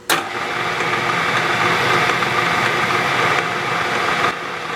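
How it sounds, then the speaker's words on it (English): A milling machine fitted with a carbide cutter switches on with a sharp start, then runs with a steady mechanical whir and hum before the sound drops at the end. "I turned the machine on to move back just so I don't accidentally chip my cutter"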